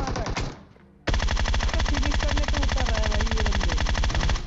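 Rapid automatic gunfire in the mobile battle royale game PUBG Mobile, a short opening burst, a brief pause, then a long sustained loud stream of shots with a steady rattling rhythm close by.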